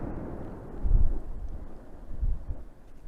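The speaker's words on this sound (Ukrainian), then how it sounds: "Хтось знову з міномета в городі стріляє." Two dull, low booms of mortar fire thud in the distance in Ukraine, a little over a second apart, muffled and rumbling beneath steady wind-like background noise.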